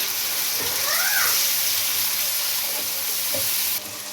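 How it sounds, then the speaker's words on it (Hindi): Onion frying with garlic ginger paste in a pan, a steady sizzle with a few faint stirring clinks, and a brief cat-like squeak partway through. "इसे लहसुन अदरक पेस्ट के साथ भून लें"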